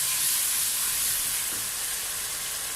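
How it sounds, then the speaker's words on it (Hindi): Ginger garlic paste hits onions frying in a pan, setting off a loud, steady close sizzle with a bright hissy texture that eases slightly over a few seconds, no voices. "अब इसमें मैं 2 टेबलस्पून अदरक लहसुन का पेस्ट डाल रही हूँ।"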